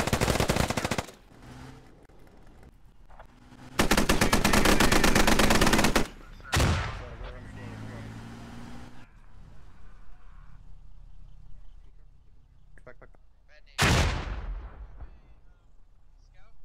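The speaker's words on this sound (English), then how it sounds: "That 50 cal just made paste to that guy." Heavy .50 caliber machine gun fire in the military shooter game Squad, with long loud sustained bursts and shorter staccato volleys separated by quieter gaps of distant battle noise.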